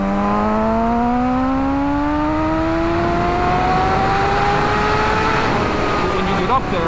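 A 2007 Kawasaki ZX6R supersport motorcycle engine revs steadily upward, a rising whine climbing through the gears as the bike accelerates, loud and continuous with wind rush and a rider's voice.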